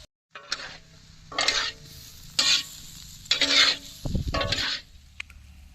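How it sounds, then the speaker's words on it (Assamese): Lentils, rice and vegetables with turmeric and cumin fry in a pan for khichdi while a spoon stirs them, with about five scraping, sizzling bursts over a quiet simmer and a soft knock near the end. "দালি চাউল চব্জি চব ফিনফিনাকৈ ভাজি লোৱা হৈ গ'ল"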